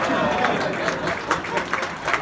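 An audience applauds at a live jazz concert by a traditional jazz band at Whitley Bay, a dense, continuous round of clapping from the crowd with a few louder individual claps standing out.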